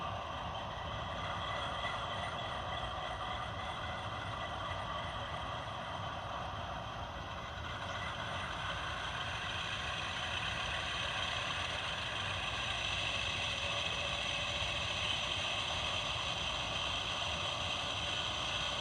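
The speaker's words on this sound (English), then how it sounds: "I can put the engine in neutral and crank it up to notch 8 and listen to the prime mover" A model diesel locomotive held in neutral with its prime mover revved to notch 8, a steady droning engine hum with a high whine, constant and unbroken throughout, no voices.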